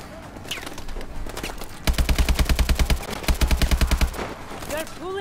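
Rapid automatic gunfire in Call of Duty: Advanced Warfare, two loud sustained bursts of machine-gun fire with a voice talking before and briefly near the end.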